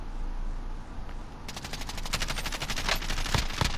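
Rapid automatic gunfire in a video game match, a sustained rattling burst that begins partway through after a quieter stretch and carries loud to the end.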